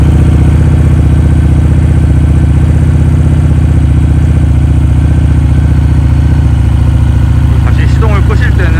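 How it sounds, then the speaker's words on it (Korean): A Harley-Davidson Street Rod motorcycle engine runs close and loud, a steady deep throbbing idle that fills the whole stretch, with a brief higher whine near the end. "이렇게 킬 스위치를 ON으로 해준 상태에서 이제 스타트 버튼을 누르시면 시동이"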